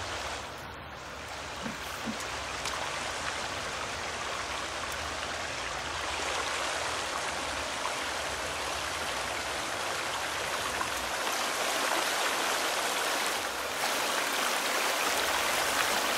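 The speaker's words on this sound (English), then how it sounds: "a waterfall." A constant rushing roar of a waterfall inside a cave in the video game The Forest fills the scene, dense and unbroken, with no voices over it.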